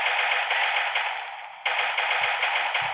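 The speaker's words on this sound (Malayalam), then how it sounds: "അവിടെ വെടി തുടങ്ങിയോ?" Rapid bursts of automatic gunfire in a multiplayer shooting video game, a dense rattling stream that briefly fades and then resumes at close range, with no talk.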